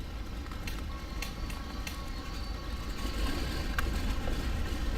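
Both engines of a PBY-5A Catalina idle after start in a VR flight simulator, making a steady, even drone that swells slightly toward the end, with no voices over it.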